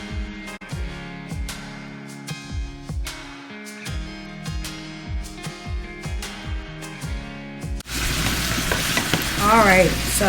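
Spicy jerk chicken wings fry in a pan: background music with plucked, rhythmic notes plays for most of the time, then a loud, dense, close sizzle takes over at the end.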